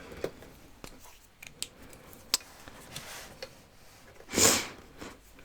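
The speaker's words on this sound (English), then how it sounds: "he's sniffing into the microphone" A sharp, breathy sniff close to the microphone stands out among scattered soft clicks and light tapping in an otherwise quiet room.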